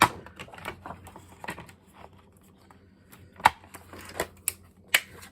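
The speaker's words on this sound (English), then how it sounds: "I'm going to take the dark green and do the same thing, but I'm going to cut at the 3/4 inch mark." A Border Maker punch snaps through dark green paper in a handful of sharp, separate clacks, close and fairly loud, with soft paper shuffling and handling between the cuts.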